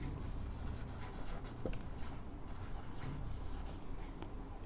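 Chalk or marker scratching on a board during a class 9 maths lesson on rational and irrational numbers, a steady close scraping with no voice over it.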